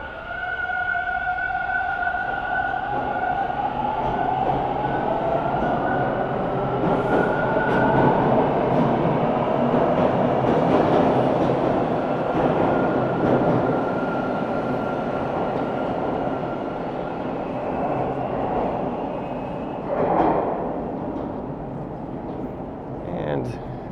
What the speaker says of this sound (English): that's a westbound train, and that'll be heading over to Kipling Station.